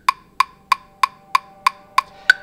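Ableton Live metronome clicking in eighth-note subdivision: eight sharp, evenly spaced clicks about three per second, with the last one brighter and higher as an accent, heard alone.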